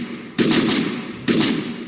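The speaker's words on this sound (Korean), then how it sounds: "뒤에서는 다시 총소리가 쫓아오기 시작했다." Two sharp gunshot bursts ring out about a second apart, each a loud crack with a short rumbling tail, used as a gunfire effect in a Korean audiobook about a mountainside firefight.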